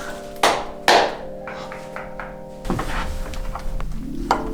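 Two sharp, solid knocks against a brick wall, followed by a few softer taps amid a low steady hum of background noise.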